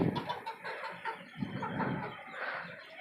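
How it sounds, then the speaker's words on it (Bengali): A desi hen, newly brought in and not yet laying, clucks in soft, irregular bursts on a rooftop poultry farm atop a five-storey house, close by and fairly quiet, with no talk over it. "আর এই আরেকটা দেশি মুরগি এটা নতুন আনা হয়েছে এখন পর্যন্ত ডিম পারে নাই"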